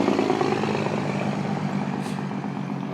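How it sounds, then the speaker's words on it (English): A truck engine rumbling steadily at a truck stop in cold weather, loud and close, with a short hiss of air brakes releasing midway. "Cause we're up here at the truck stop."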